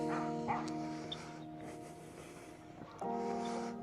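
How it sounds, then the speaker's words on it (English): Dogs bark a few times in a neighborhood beside the Teal Ridge Wetlands in Stillwater, Oklahoma, giving short, faint yips and woofs at a distance over a quiet outdoor background. "The dogs barking are kind of a nuisance."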